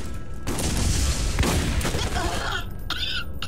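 Rapid gunfire bursts and booming blasts in the Borderlands video game, loud and dense for most of the stretch, fading toward the end with a few scattered shots.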